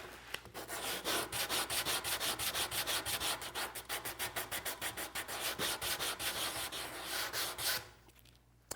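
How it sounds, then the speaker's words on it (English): Coarse 100–120 grit sandpaper on a hand sanding block rubs back and forth along a curved plywood edge, loud and close in steady rhythmic strokes that stop just before the end. "I'll finish it off with just a sanding block and some coarse sandpaper, like 100 or 120 grit"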